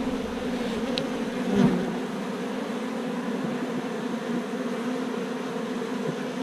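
Honey bees buzz steadily around an opened, swarmed hive frame, a continuous close drone with a brief louder pass near the middle and no talking.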